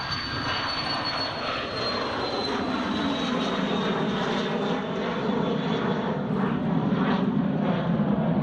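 A Ryanair airliner taxiing after pushback at Edinburgh Airport, a steady close engine roar with a high whine that drifts gradually down in pitch, heard alone and fairly loud.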